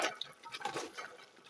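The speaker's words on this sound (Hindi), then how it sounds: "चलिए जी मिक्स करते हैं दही डाल के।" Whisked yogurt is stirred into a chicken and potato curry in a pot, giving soft wet squelching and liquid sloshing sounds, close and fairly quiet, with no talking.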